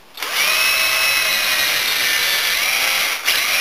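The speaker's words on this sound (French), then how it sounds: "j'équipe la perceuse visseuse d'une mèche de 8, mais un peu plus longue pour continuer le percement" A power drill with an 8 mm bit whines steadily at high speed for a few seconds while boring a hole, starting abruptly and briefly dipping near the end.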